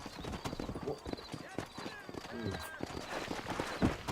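Rhythmic clip-clop of horse hooves trotting close by in Red Dead Redemption, with a brief whinny and people talking over the steady hoofbeats.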